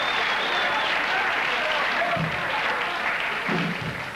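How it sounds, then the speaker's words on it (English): A band cheers and applauds together, a broad, steady wash of clapping with a few louder low bursts of voices toward the end, fairly close and sustained throughout. "The whole band is cheering"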